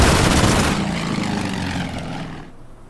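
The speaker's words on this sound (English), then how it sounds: "there's some other aircraft running around" A fighter aircraft in the Order of Battle: Winter War video game roars loudly past with a propeller drone, then fades steadily into the distance.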